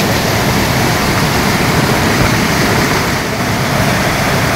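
Glacier meltwater stream rushing loudly along the trek from Dovan to Machhapuchhre Base Camp, a dense continuous roar of water close by, with no talk.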